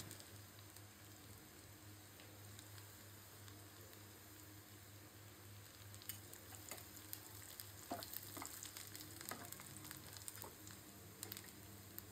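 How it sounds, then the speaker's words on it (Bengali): Onion frying in a pan, a steady soft sizzle with faint crackles and occasional stirring scrapes, quiet and continuous throughout. "পেঁয়াজটা একটু ভেজে নিচ্ছি।"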